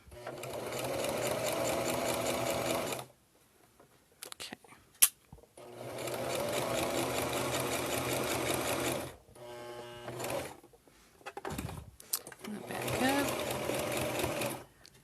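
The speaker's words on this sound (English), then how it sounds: "I'm lining this line up with my sewing foot because I may go back over it with a zigzag stitch." A sewing machine stitches a fabric machine cover, running in three steady loud bursts of fast, even whirring with short gaps of handling noise and clicks between them.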